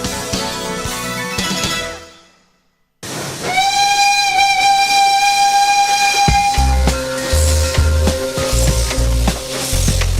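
A restored old steam tourist train, the Sepur Kluthuk Jaladara in Solo, sounds a loud, sustained whistle after a brief pause, with chuffing and rail rumble continuing beneath it.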